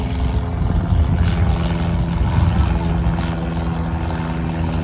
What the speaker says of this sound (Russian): Ой, самолеты летают.